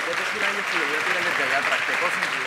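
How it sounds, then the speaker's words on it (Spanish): Audience at a health and research congress applauds a former Costa Rican president, continuous clapping with a faint voice murmuring underneath, moderately loud and even throughout. "vamos a darle un aplauso primero que nada"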